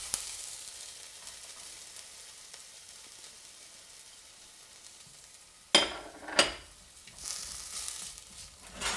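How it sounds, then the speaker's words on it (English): Garlic sizzles while sauteing in a pan, a faint steady hiss that swells with a couple of sharp clatters and stirring scrapes before the frying hiss rises again. "pop that back on the heat there and just saute for a further minute or two"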